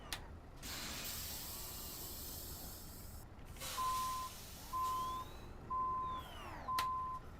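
Reversing beeps from a truck in the Euro Truck Simulator 2 game, a steady series of four evenly spaced electronic tones over engine and air hiss, with a sharp air-brake burst in between.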